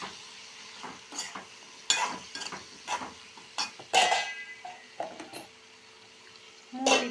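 A spoon stirs brinjal poriyal with turmeric, chilli powder and salt in a pan, giving repeated scraping and clinking strokes against the metal over a soft sizzle, close and irregular.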